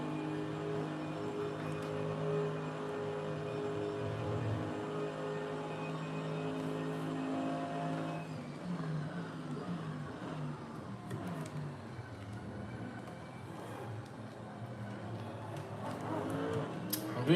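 GT3 race car engine in the racing game Assetto Corsa, a sustained droning engine note that holds steady, then shifts midway into rising and falling revs as the car works through corners, with no voices.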